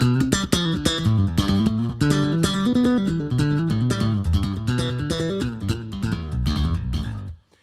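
Electric bass with its pickups switched to parallel, played as a busy, continuous line of plucked notes with a bright, stringy edge, loud and close, with no talking, cutting off sharply at the end.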